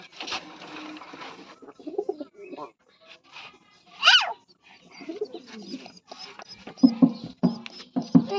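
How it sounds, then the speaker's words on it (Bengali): Pigeons coo intermittently at low pitch, with one sharp higher bird chirp in the middle and a person talking in between the calls. "এই পাশে হলো দুটি কবুতর আছে"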